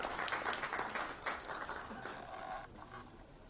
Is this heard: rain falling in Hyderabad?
no